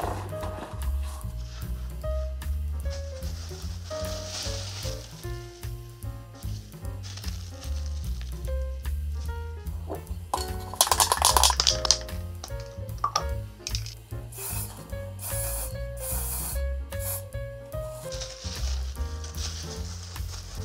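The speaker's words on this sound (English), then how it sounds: "I forgot to spray it, so I'm gonna spray it now" Short bursts of hissing spray from an aerosol can sprayed onto a pencil artwork, heard a few times over steady background music.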